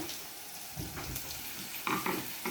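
Mixed vegetables sizzle in a pan with turmeric powder, a steady close frying hiss broken by a few scraping stirs and clatters, with no talking.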